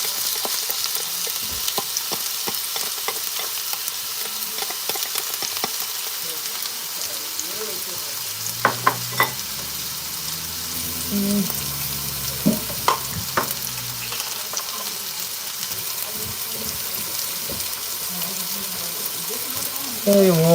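Sliced onion hitting a warmed skillet and frying, a steady broadband sizzle running throughout with a few clicks and brief tonal bumps partway, and a sharper burst near the end.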